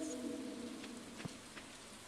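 Soft rain falling in the Stardew Valley farming game, a faint even patter under a brief fading musical tone, with a single soft thud partway through and no voices.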